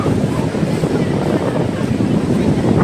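Sea waves and wind at Calangute Beach in Goa, a steady broad roar of surf and gusts buffeting the microphone, loud and continuous without a break.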